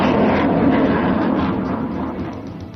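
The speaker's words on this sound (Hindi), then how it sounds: "सुनसान इलाके में लड़ाकू विमानों की आवाज साफ सुनाई दे रही है।" Pakistan Air Force fighter jets flying over a remote mountain area give a loud, steady broadband roar that stays continuous throughout and eases slightly toward the end, with no voices.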